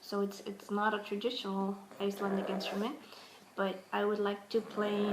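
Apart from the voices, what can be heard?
No everyday noises stand out.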